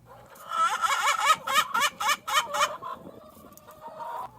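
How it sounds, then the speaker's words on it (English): A chicken gives a run of shrill, rhythmic squawking calls, close and fairly loud, sounding much like a seagull, trailing off into softer clucks. "I love taking care of my little chickens. Even ones that sound like a seagull."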